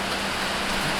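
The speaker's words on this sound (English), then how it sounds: "enjoy the rain, the sound of rain" Steady rain falls in Langkawi, a dense even hiss of drops close by, with no voices over it during the brief stretch.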